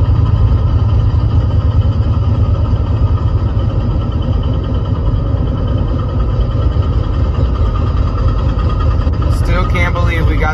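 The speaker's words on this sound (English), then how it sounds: "This was the video of the bike running." A Honda V45 Magna motorcycle engine runs at a steady, loud idle close to the microphone, a continuous rumbling drone that does not change in pace, with a brief burst of other noise near the end.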